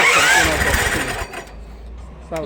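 A belt crusher machine's engine starts with a loud, rough burst of mechanical noise that settles after about a second into a lower, steady running hum, with a voice briefly heard near the end.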